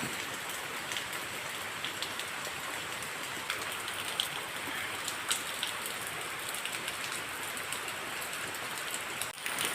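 Steady rain falls around a house beside a stream, a dense even hiss of drops on surfaces continuing throughout, with no voices.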